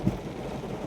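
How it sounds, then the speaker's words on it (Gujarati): Heavy rain falls in a steady, close wash of broadband hiss, with a brief low rumble near the start that could be thunder; no voices. "જોરદાર વરસાદ આવે છે,"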